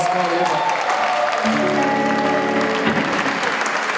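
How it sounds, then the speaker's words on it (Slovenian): An audience at a party concert applauds the performers with thick, continuous clapping that fills the whole stretch, and a voice briefly rises above it partway through. "en aplavz za njih"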